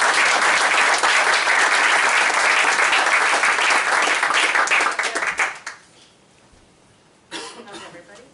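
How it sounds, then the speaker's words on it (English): An audience at an evening design talk gives speaker Jadyn a loud round of applause, a dense clatter of hands that lasts about five seconds and trails off quickly, followed by a voice starting to speak. "So let's have a big round of applause for our first speaker of the evening, Jadyn."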